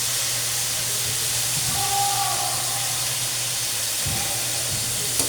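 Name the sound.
soy sauce added to string beans sautéing in a pan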